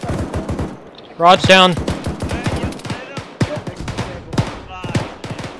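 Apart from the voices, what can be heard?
gunfire with bullets ricocheting inside a bunker, from a video game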